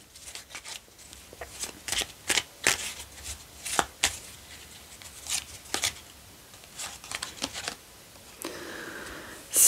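Tarot cards being shuffled and drawn, a run of crisp papery slaps and flicks in an irregular rhythm, close and fairly quiet, ending in a longer sliding shuffle.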